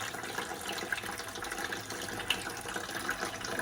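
Tap water runs in a steady, even splash as an aloe leaf is rinsed under the stream, close and continuous with no voices.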